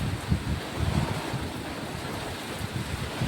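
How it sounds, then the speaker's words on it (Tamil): Strong wind with rain: a steady, fairly faint broadband rush of wind buffeting and hissing rainfall, with low gusty rumbles and no clear voices. "மழை நல்லா காற்றடிக்குது"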